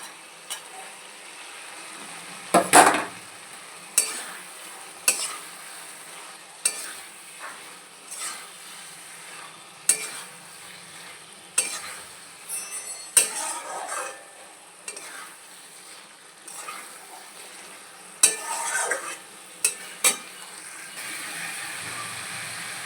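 Pre-fried potatoes stirred into frying masala for katla kalia, a low background sizzle punctuated by repeated clattering scrapes and knocks of a spoon against the pan at irregular intervals, close and fairly loud, no voices.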